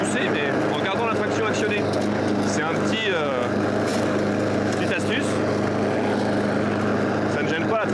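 A self-propelled lawnmower, converted to push operation with the wheel traction still engaged, runs with a steady close engine drone throughout, with a few brief higher whines and rattles over the continuous mechanical roar.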